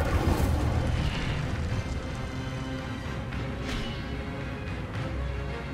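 Spell casting in Hogwarts Legacy combat, a continuous roar of fiery blasts and booming explosions with sharp bursts layered over a dense rumbling bed, loud and busy.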